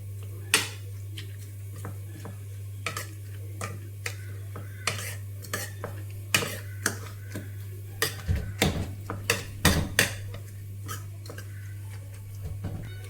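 Egg omelette batter with raw vegetables and drumstick leaves being mixed in a bowl, a series of close, sharp clinks and taps of utensil against the bowl at an irregular rhythm over a steady low hum.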